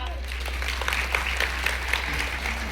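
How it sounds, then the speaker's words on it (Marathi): Audience applause fills a school event hall, a steady, moderately loud wash of clapping over a low hum, with no pauses. "एकदा जोरदार टाळ्या वाजवा"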